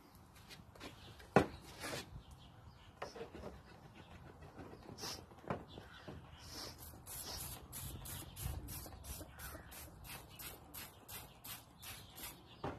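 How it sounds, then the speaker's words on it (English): A rapid series of short spray bursts of watered-down Simple Green cleaner from a trigger bottle into a bird feeder, close up, following softer rustling and handling noises. "I just spray my Simple Green in there."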